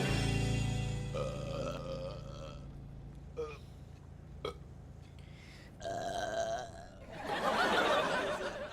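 A long, loud, rumbling burp opens the scene in an indoor family comedy, then fades. Shorter throaty sounds and a burst of laughter follow.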